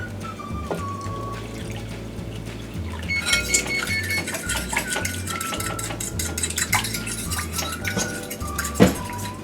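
Fork stirring milk in a mixing bowl for cornbread batter: steady scraping and clinking of metal against the bowl with soft liquid swishing, close and continuous, with a sharper clink near the end.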